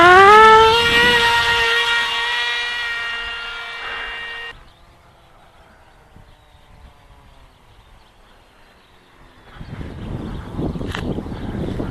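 The electric motor of an S800 Sky Shadow flying wing whining loudly at full throttle for launch, rising in pitch then cutting off abruptly, followed by quiet wind and a later burst of rushing noise.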